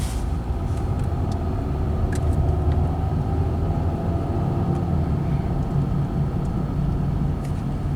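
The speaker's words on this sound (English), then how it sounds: "He's got tire noise." Inside a moving 2016 Ford Fusion with worn tires, a steady low road and tire rumble fills the cabin. The drone is constant and moderately loud, with a few faint ticks and rattles and no talking.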